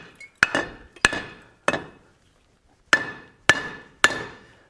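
A hammer strikes a face plate on a Harbor Freight anvil six times, each blow a sharp ringing clang with a metallic tone that decays, spaced about half a second to a second apart with one longer pause.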